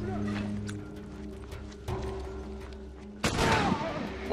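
Gunfire erupts during a firefight in The Last of Us on PS3, with scattered distant reports over a humming backdrop, then a louder close burst of shots near the end.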